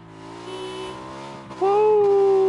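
A motorbike engine in a video game drones with steady harmonic tones, then jumps abruptly into a louder, higher-pitched rev as the bike launches toward a rock jump.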